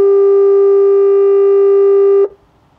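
A marine loudspeaker signal for a tugboat plays from a river radio and hailer system: one loud, steady electronic tone held for just over two seconds, then cut off, with no voices.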